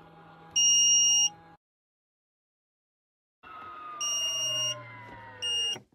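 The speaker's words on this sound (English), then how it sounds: "That little beeping noise" High electronic beeps from a 7th-generation Nissan Maxima race car sound in two bursts: one sustained tone, a pause of silence, then a longer beep followed by a short final chirp.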